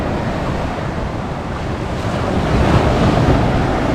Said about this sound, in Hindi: क्योंकि जो लहरों की आवाज़ है बहुत ज़्यादा आ रही है